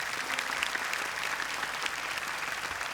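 Audience applause at an Indonesian children's Quran memorization TV contest, a steady dense clapping from a studio crowd that holds for about three seconds with no speech.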